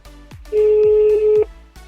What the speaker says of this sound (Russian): Звоню контакту Автолось.